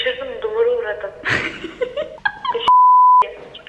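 A steady censor bleep tone runs for about half a second, loud and alone, cutting off a stretch of casual chat and laughter in a car trip across Istanbul.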